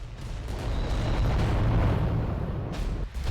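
A volcano cannon fires in the Adeptus Titanicus video game, a single heavy, sustained roaring blast that swells and holds for a few seconds before cutting off, loud and close.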